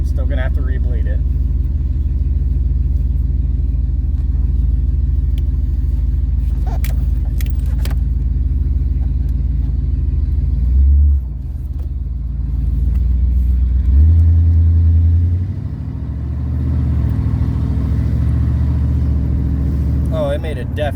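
A 1977 Pontiac Trans Am, an old neglected car, idles after vacuum tuning with a steady, close, low rumble and a couple of brief throttle blips partway through, plus a few light metallic clinks.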